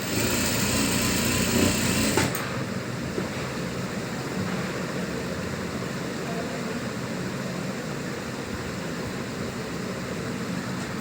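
A sewing machine runs steadily, stitching elastic onto a salwar or pajama waistband, a continuous close whirring drone with a brief louder burst at the start.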